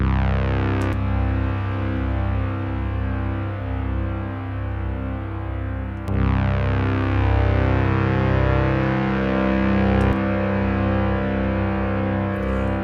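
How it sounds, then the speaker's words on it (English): A sustained, heavily processed synth tone drenched in a sampler's reverb preset, with a dense washing tail; the texture shifts a couple of times as settings change. "so it just adds it's almost like a reverb"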